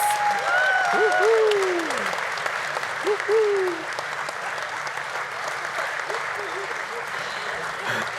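Audience applause at a Slovenian armed forces command day ceremony, loud at first then easing to a steady wash of clapping, with gliding whistle-like tones sounding over it early on.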